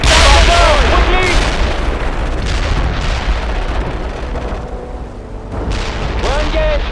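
Artillery fire pounds infantry positions in World in Conflict, a dense, continuous roar of booms and gunfire across the whole stretch, with brief radio-style voices breaking through at the start and end.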